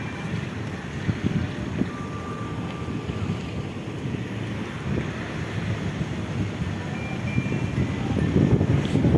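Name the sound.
wind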